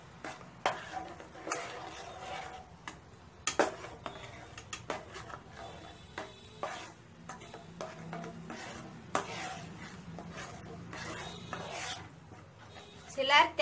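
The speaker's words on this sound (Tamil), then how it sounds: "போட்டு நல்லா கலந்து விட்டுக்கோங்க" A spoon scrapes and stirs fish curry with tomato and onion, made without coconut, in a pan: irregular soft scraping strokes and light clinks, fairly close, repeating throughout at a modest level.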